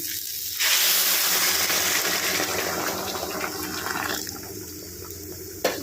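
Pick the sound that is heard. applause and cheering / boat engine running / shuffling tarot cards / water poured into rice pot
water poured into rice pot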